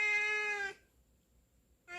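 A formerly stray male cat lets out a drawn, tonal meow up close, then falls silent for about a second before starting another meow at the end; no one talks.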